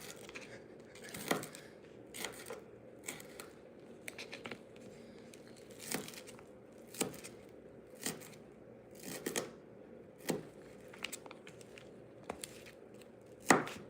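A kitchen knife slices through onions in a steady series of soft, close chops, each stroke a brief crisp tap, with irregular pauses between cuts and no voices.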